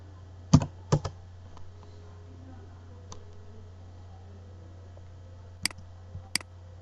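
A few isolated key clicks on a computer keyboard, two sharp taps early on and two more near the end, over a low steady hum in a quiet room.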